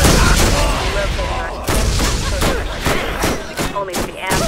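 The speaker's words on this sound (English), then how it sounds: "Keep shooting!" Gunfire fills the Borderlands video game scene: loud, rapid repeated shots and booms arrive in an uneven volley, with a voice faintly mixed underneath.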